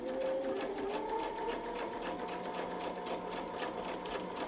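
A sewing machine stitches quilting along a Westalee Mini Spin-e-fex ruler template, a steady moderately loud hum with rapid needle ticking throughout, no pauses.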